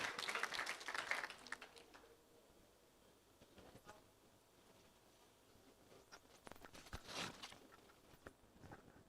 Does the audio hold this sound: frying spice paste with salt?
no